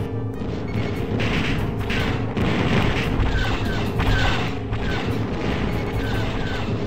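Torpedoes launching in X-Wing vs TIE Fighter, a string of loud booming thuds and blasts repeating over a continuous space-combat rumble.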